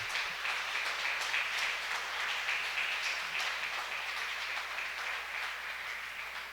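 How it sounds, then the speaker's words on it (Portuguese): Steady, fairly faint applause from a church congregation clapping to praise Jesus during a sermon, a continuous dense wash of many hands with no voices standing out. "Aplaude a Jesus por isso."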